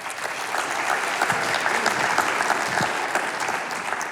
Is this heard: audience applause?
yes